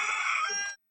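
A rooster crows once, loud and close, a single sustained cock-a-doodle-doo lasting under a second before cutting off into silence.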